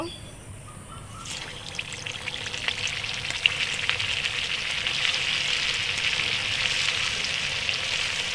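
Semolina-stuffed snacks drop into hot oil tinted with turmeric, and after a brief quiet start a dense, steady sizzle of frying swells and holds close and loud, with faint scattered clicks.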